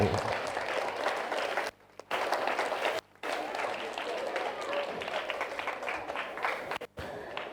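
A crowd at a school speech and prize giving day applauds in thick, broadband clapping that cuts out briefly a few times, with voices mixed into the clatter.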